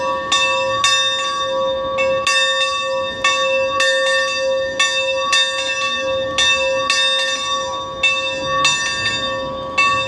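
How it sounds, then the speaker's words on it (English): Bells ring repeatedly at a train museum at the Los Angeles fairgrounds, loud, bright and steady, struck in a regular rhythm with long, sustained ringing tones. "There's a bell going on."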